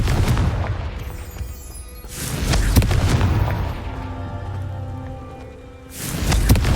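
Confringo blasting spell in Hogwarts Legacy, two loud booming explosions with crackling debris and a rumbling tail between them, the second bursting near the end.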